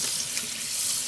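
Tap water runs steadily into a drainer to rinse raw chicken, making a continuous hissing splash up close with no talking.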